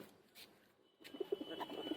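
Pigeons kept by a seller in Kolkata, a green male among them, give several soft, low coos that start after a short quiet stretch and repeat irregularly, moderately close, over faint background rustle.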